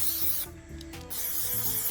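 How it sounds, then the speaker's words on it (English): Spray paint hissing from a can onto a VW Polo badge, a close, steady spray broken by a short pause before the next pass. "So this last coat, don't be shy, give it a good spray"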